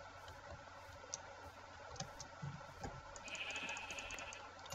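Sheep bleat in a farming video game, faint and brief over a steady low background hum with small clicks, no talking.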